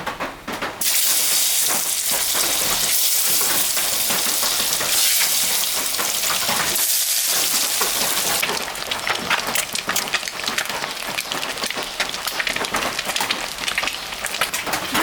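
Eggs fry in hot mustard oil seasoned with a little salt and turmeric. A loud, dense, continuous sizzle, like heavy rain, runs close up, with a couple of brief dips.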